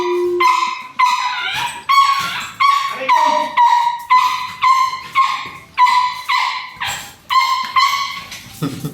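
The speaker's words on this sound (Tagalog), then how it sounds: "Bakit kaya alert ang mga aso?" Dogs bark repeatedly in a steady rhythm, sharp yelps close by, with a high whimper at the start and a few whines between barks.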